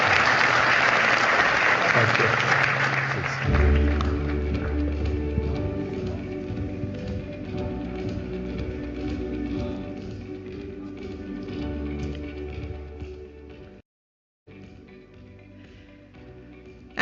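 Audience applause for two guests at a Reliance Industries event: a loud, sustained crowd clapping that carries through most of the stretch, with a voice saying thanks over it, a brief dropout near the end, then clapping resuming.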